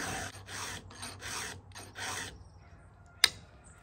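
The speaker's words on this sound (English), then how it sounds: "you can make that saw look powerful by filing your chain good" Hand file sharpening a chainsaw chain on a tailgate, five or six rhythmic rasping strokes close up, followed by a sharp metallic click.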